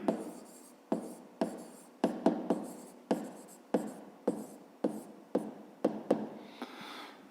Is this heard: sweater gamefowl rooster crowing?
no